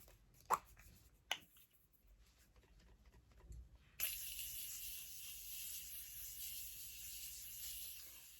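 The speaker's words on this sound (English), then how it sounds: "I like to add the Continuous Setting Mist by Morphe" Morphe Continuous Setting Mist sprays in a soft, steady hiss lasting several seconds, preceded by a few quiet taps and clicks of handling the bottle, close and fairly faint.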